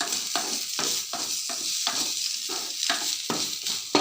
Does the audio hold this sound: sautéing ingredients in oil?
yes